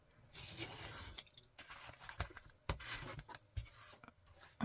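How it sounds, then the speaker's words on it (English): A craft blade draws along an acrylic ruler, slicing through a journal cover made from an old Reader's Digest cover, giving close, soft scratchy strokes and crunchy scraping bursts of uneven rhythm, with brief pauses between cuts. "So I'm just measuring with my acrylic ruler, cutting with my blade."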